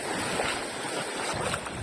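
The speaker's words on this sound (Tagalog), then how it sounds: "Sobrang lalaki ng alon." Broad, continuous roar of large ocean surf and wind, steady and fairly loud throughout, with no voices.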